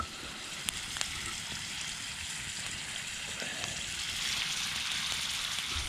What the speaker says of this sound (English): The potatoes are sizzling up.